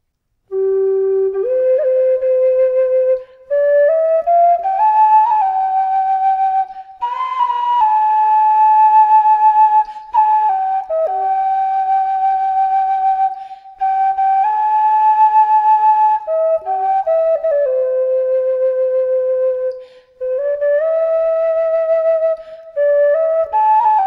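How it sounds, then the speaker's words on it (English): A tin whistle played through a mini amplifier with live echo, moving through stepped pitches, bright and sustained with a trailing echo, played alone with brief pauses between phrases. "And this is the amplified sound with echo."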